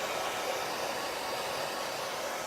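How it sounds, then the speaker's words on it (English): Hair dryer blowing steadily on a reverse canvas craft transfer, a continuous close, even whoosh of air throughout with no talking. "And then we get my hair dryer."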